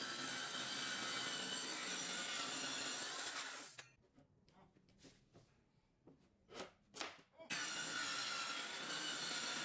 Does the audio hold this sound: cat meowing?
no